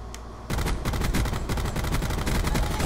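Rapid gunfire from the video game Call of Duty Black Ops 4 fills the clip, with dense, continuous automatic bursts that start abruptly after a short lull and stay loud and close throughout.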